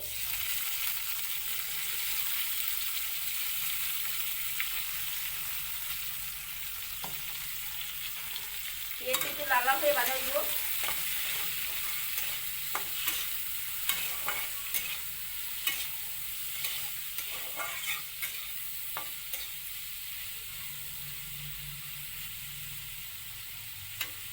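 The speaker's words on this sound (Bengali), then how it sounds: "এই কাটা পেঁয়াজগুলি দিয়ে দিব তেলের মধ্যে" Chopped onions dropped into hot oil in a kadai for a fish and potato curry, sizzling faintly and steadily for a long stretch, with scattered clicks and scrapes of stirring throughout.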